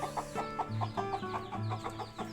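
Newly hatched chicks trying to climb over a brick give rapid, high, repeated peeping chirps, close and fairly loud, in a busy, overlapping rhythm with no talking.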